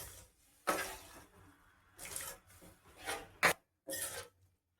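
Spoon stirring brinjal kara kuzhambu with chilli, turmeric and spice powders in a pot, a few short scraping strokes separated by pauses, close and fairly quiet, no talking.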